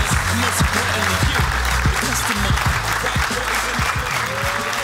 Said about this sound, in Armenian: Եվս մեկ անգամ ծափարենք